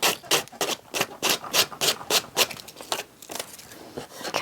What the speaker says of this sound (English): once our glue dries, then we're going to take and sand the edges off